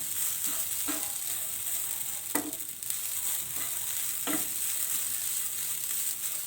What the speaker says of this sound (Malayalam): നന്നായിട്ടൊന്ന് മിക്സ് ചെയ്യുക. ഈ തേങ്ങ ഒന്ന് റോസ്റ്റായി കിട്ടണം.